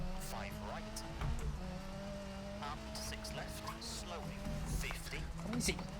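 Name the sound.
Group B rally car engine in EA WRC video game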